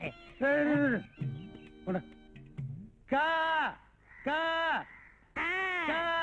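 Crows cawing in a Tamil comedy scene, with about five loud, harsh, separate caws close by, with speech between them.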